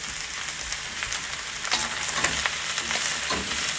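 Rice is stir-fried in a hot wok for authentic fried rice, a loud continuous close sizzle with scraping and tossing sounds from the spatula growing busier partway through.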